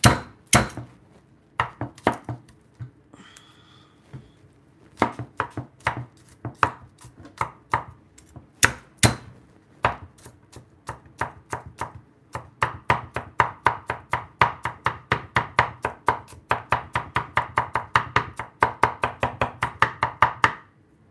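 Garlic being chopped with a knife on a cutting board, crisp close knocks that begin sparse and irregular, then quicken into a fast, steady rhythm of repeated chops.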